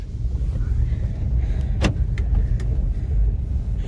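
A Renault Triber car pulls away at night with a steady low engine and road rumble, loud and close, with a few brief clicks and knocks over the continuous drone.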